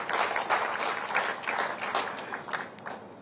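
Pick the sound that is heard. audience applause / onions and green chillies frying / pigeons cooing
audience applause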